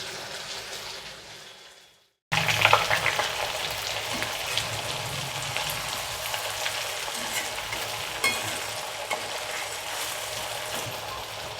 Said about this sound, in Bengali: এইভাবে আপনারা সোয়াবিন কোপ্তার আকারে করে এইভাবে ভেজে নিন